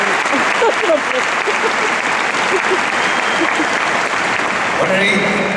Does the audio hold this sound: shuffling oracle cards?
no